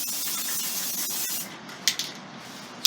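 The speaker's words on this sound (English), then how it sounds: "Hit it with that clear spray and then you're good to go." A hissing aerosol can of clear spray paint, used on a surfboard, runs for about a second and a half, then stops, followed by a few faint clicks and taps.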